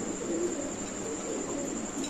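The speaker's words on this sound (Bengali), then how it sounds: "এখানে আছে এক পেয়ার ফ্যান্টেল কবুতর নাকি ভাই?" Fantail pigeons coo softly in a loft, a low, quiet burbling call against a faint steady background hum.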